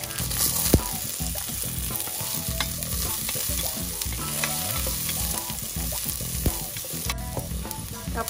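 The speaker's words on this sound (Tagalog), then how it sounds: "Lagyan na natin ang ating garlic." Garlic sizzles and fries steadily in a hot pan while being stirred, an early step in cooking Cebu balbacua beef stew; the close, continuous crackle carries scraping stir sounds and no voices.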